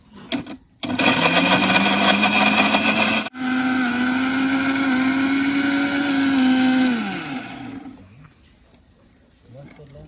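A mixer grinder whirs loudly and steadily for several seconds, briefly stopping and restarting, then winding down to quiet.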